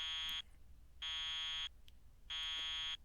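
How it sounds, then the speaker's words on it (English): Three evenly spaced electronic alarm beeps sound from a bag in a visual novel, each a loud, steady, shrill tone of about half a second separated by short silences. "He didn't remember the alarm that had been beeping ever since they'd fallen down"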